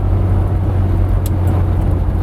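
A Vauxhall Chevette, a rear-wheel-drive car, drives on a greasy wet road toward a roundabout, its engine giving a steady low drone with road rumble heard from inside, constant and with no talk.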